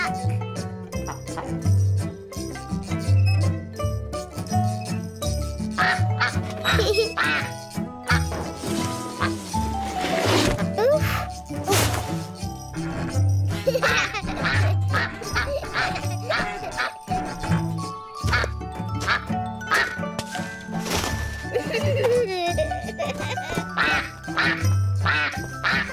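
A cartoon duck from the children's show Sarah and Duck quacks a few times over cheerful background music and jingling, loud and close, with a voice speaking in between.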